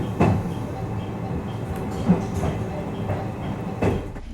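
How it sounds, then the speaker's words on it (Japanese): A train rolls over the scissors crossing points on the Wadamisaki Line as it nears Hyogo Station, giving a steady rumble with a few sharp clacks from the wheels over the switches. No voices. "シーザーズクロッシングのポイントを通過して兵庫駅のホームは間もなくです。"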